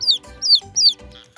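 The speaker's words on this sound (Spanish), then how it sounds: "Los pollitos pían." High, repeated peeping calls of chicks, three clear descending chirps in quick succession at close range, alone with no talk.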